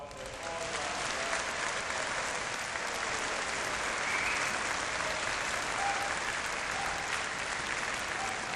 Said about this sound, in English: So let's give them a nice round of applause.